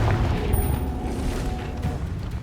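A Confringo blasting spell explodes in Hogwarts Legacy, a loud, dense, rumbling boom that fills the short span with heavy low-end energy and crackling debris.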